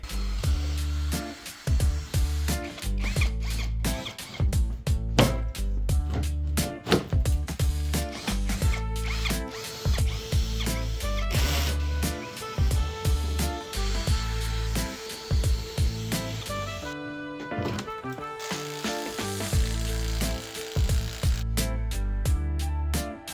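Rapid bursts from a pneumatic impact wrench and other tools rattle as the wheels and undertray come off an Alfa Romeo Giulietta, loud, choppy and repeated with brief pauses between runs, no talking.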